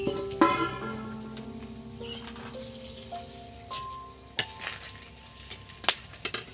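Whole black pepper and bay leaf sizzling in hot cooking oil for a mutton curry with potatoes, a quiet crackle with scattered sharp pops and a few light scrapes, no voices.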